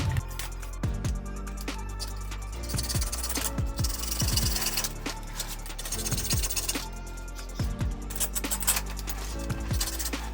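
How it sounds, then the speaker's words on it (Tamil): A Bajaj Avenger 160 motorcycle windshield piece being cut by hand, repeated rasping saw-like strokes in a steady back-and-forth rhythm, close and moderately loud, with a few light clinks. "இப்போ கட்டிங் வேலையை ஆரம்பிக்கலாம்."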